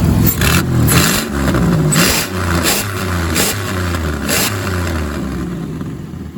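A 1998 Oldsmobile 88 with a plugged catalytic converter and its O2 sensor pulled revs hard up close, its engine surging and falling through several loud throttle blips in a rough, rhythmic pattern, with no talking.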